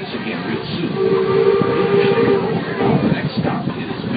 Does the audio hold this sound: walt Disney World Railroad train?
yes